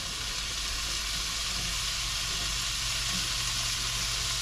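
Meat mixture sizzles steadily in a hot pan as pasta is stirred nearby. The frying hiss stays loud and even from start to end, with no talking.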